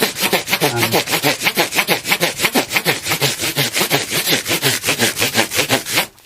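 Fine-grit sandpaper rubbed in fast, steady back-and-forth strokes over a guitar fret or fingerboard during a setup, a close, continuous rhythmic rasp with no talking.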